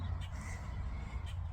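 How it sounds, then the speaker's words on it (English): Crows caw outdoors in a few short, harsh calls at moderate distance over a low rumbling background, with no speech in between. "I hope the birds aren't too loud."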